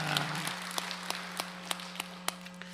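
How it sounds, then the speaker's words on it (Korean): Scattered individual claps ring out one by one in a Sunday church service, about eight sharp claps spaced at irregular intervals over a steady low electrical hum. "성령님 역사하실 것을 믿고 선제 박수로 영광 돌리겠습니다."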